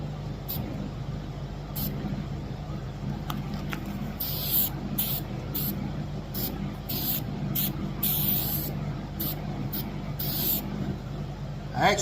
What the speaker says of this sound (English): let's go ahead and get some adhesive sprayed on here and get this one attached